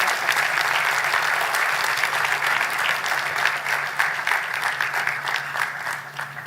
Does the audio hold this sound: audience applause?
yes